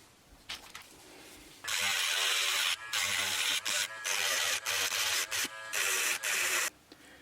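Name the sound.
grinding the bottom off a Hot Wheels die-cast car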